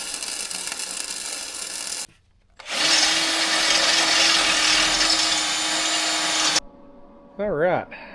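A power drill bores holes in steel bumper tabs for lights on a DIY Lexus GX470 tube bumper, a sustained high grinding whir of about four seconds between pauses, with brief rising tool whines near the end.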